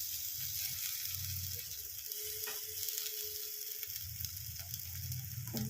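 Garlic and ginger dropped into a pan of fried onions, cooking for a fish-head and cabbage dish, give a steady, close sizzle that holds throughout with faint scraping movements.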